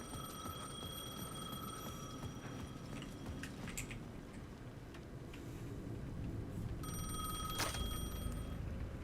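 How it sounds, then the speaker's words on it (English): A payphone at the edge of a plaza rings in the video game Alan Wake 2, an electronic bell trilling in two bursts over a low ambient game drone, with a pause between them. "The payphone at the edge of the plaza was ringing again."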